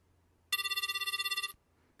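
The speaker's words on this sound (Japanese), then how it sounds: "鳴ってる？ 呼んでるね。" Mobile phone ringing in the Japanese horror adventure game Himorogi no Uta, a single bright warbling electronic ring pulsing rapidly for about a second, clear and alone against near silence.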